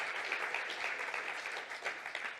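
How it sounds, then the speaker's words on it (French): A lecture audience applauds a speaker after her concluding remarks at a talk on biodiversity, a dense, steady wash of many hands clapping together, moderately distant and continuous with no voices standing out. "Mais il est le temps, du coup, maintenant de l'applaudir."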